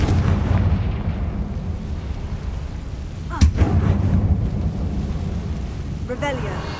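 The Confringo fire spell in Hogwarts Legacy bursts as a sharp blast at mid-clip, then a second, weaker explosion follows, both over a continuous low rumbling battle din.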